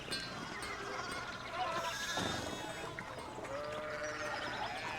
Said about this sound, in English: Look at all these sheeps.